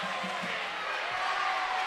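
A rowdy home crowd at a high school boys' basketball game in the NFA gym: a steady, dense din of voices filling the space with no single cheer standing out.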